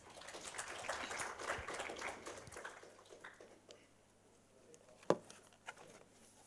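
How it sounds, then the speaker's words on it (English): Applause from a seminar audience welcoming a speaker to the stage, a soft, somewhat distant patter of clapping that fades out partway through, leaving near quiet with a couple of small knocks. "Let's give him a good round of applause"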